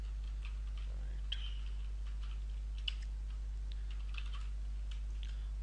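Light computer keyboard typing while writing JavaScript code: a few sparse, soft key clicks over a steady low hum, with no speech.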